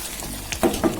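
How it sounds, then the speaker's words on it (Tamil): Prawn masala gravy simmering in a pan, with a low steady sizzle and bubbling broken by a few soft stirring scrapes, close and moderately loud. "ஒரு 5 மினிட்ஸ் வந்து கொதிக்க விடுங்க."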